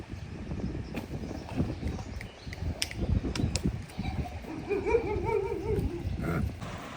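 A Marwari stallion's hooves clip-clop in scattered, irregular knocks at a farm, faint and somewhat distant, with bird calls rising in the background near the end.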